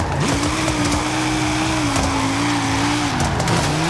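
A light rally car built up from a street car, stripped with a roll cage added, pulls away under a steady, loud engine drone with rising pitch and faint crackles, no voices over it.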